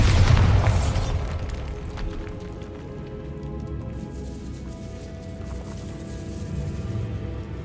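A loud, booming blast from the Bombarda spell in a Hogwarts Legacy-style game opens the moment, followed by a long rumbling, crackling tail of debris and ambient game noise.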